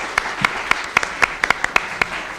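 A small audience claps for a conference panel, about a dozen sharp, separate claps spread over a couple of seconds, close and fairly loud but sparse rather than a full ovation.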